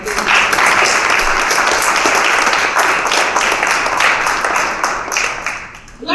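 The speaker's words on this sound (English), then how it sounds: "You can go ahead and clap right there." A festival audience at a poetry reading breaks into sustained, dense clapping that stays steady and loud before thinning out toward the end.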